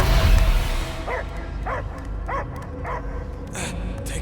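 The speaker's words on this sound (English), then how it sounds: "I hear only barking." A dog barks in a film scene, a series of about six short, evenly spaced barks and yips heard up close over a steady background score.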